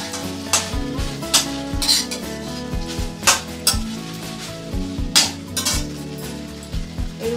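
A spatula clanks and scrapes around a hot pan as soy sauce and vinegar are stirred into egg chowmein, with rhythmic metallic knocks over a constant sizzle and steady background music.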